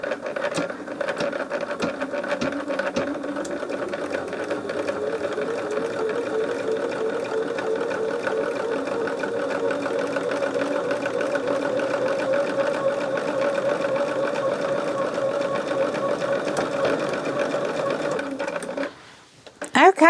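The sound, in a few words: sewing machine top stitching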